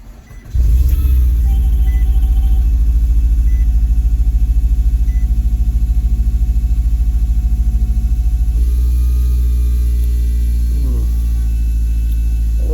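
A 2013–2018 Nissan Altima with a freshly replaced engine cranks briefly, then fires up and settles into a loud, steady idle close by, with a slight shift in engine tone near the end.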